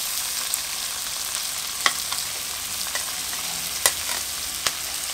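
Sliced onions frying in ghee with fennel and dry spices for a biryani made from ration rice, a continuous hiss with sparse sharp utensil taps against the pot. No one speaks.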